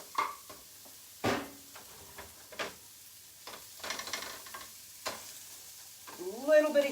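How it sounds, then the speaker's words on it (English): Vegetables cooking in an oiled pan for an omelette, with a soft steady sizzle broken by several short scraping stirs of a utensil against the pan, close and moderately loud, with no talking. "A little bit of heat into those vegetables."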